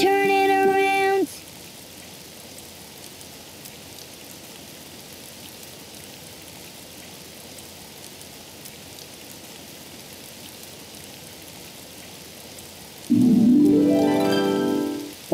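Soft, steady rain patters in the background, bracketed at the start and end by loud tonal musical sounds.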